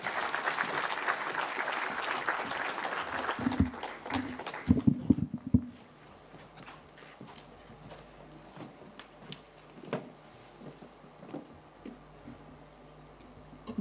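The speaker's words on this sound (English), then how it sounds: "A round of applause, please" An audience claps for the Finance Minister's keynote at the Business Standard Manthan event. A dense round of applause rises, then thins out after about six seconds into a quiet hall with scattered small knocks and shuffles.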